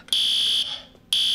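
A pulled fire alarm blares in loud, harsh electronic bursts, one long tone, a short gap, then it starts again, heard alone and close.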